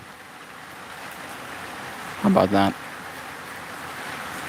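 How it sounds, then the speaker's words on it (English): Loud rain falling in a continuous, even hiss, with a person briefly speaking over it midway. "That rain seems pretty loud, huh?"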